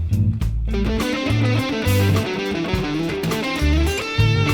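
Distorted electric guitar picking a steady run of fast 16th notes over a loud backing track with bass and drums, the notes packed densely and evenly throughout.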